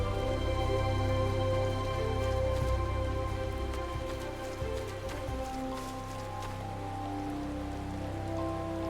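Rainfall in the video game Final Fantasy XIV, a constant patter of drops on surfaces layered over a low steady ambient drone, with no voices.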